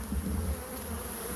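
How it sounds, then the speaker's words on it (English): A swarm of killer bees buzzing in a steady, dense drone inside a shed, close and continuous with no voices. "Look at that, you guys. All killer bees."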